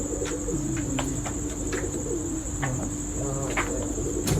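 DG Khan pigeons coo in soft, repeated rolling calls close by, under a continuous high-pitched insect-like whine that holds steady throughout.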